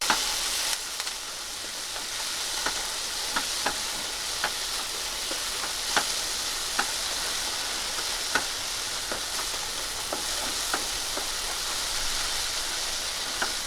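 A pan of frying mixture with half a spoon of turmeric being stirred in, for a Maharashtrian dudhi (bottle gourd) bhaji, giving a steady sizzle with small scraping clicks from the spoon scattered throughout.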